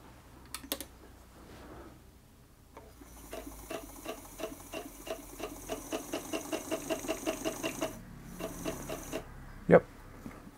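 An Elna Grasshopper sewing machine turned by hand through one revolution, a soft, even run of rapid mechanical clicks with a few isolated taps before and after, close and quiet.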